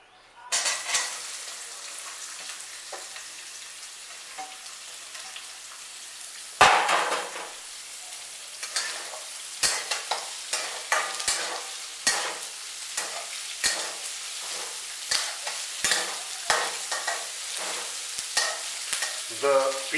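Onions frying in hot oil with cumin and mustard seeds for kande pohe, a constant close sizzle broken by a loud pan knock and then a regular rhythm of spoon scrapes and stirring taps.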